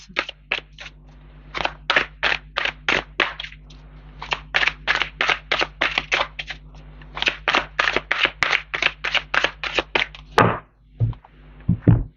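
Tarot cards handled and laid down in a quick rhythmic run of crisp slaps and riffles, about two dozen close, even card snaps in bursts with short pauses, ending in a few softer taps.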